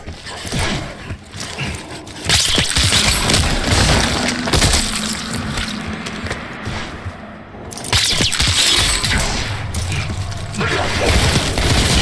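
Bursts of dense crackling gunfire and clattering impacts in the video game Call of Duty: Black Ops 6 come in waves, loud and chaotic, with a brief lull before another volley.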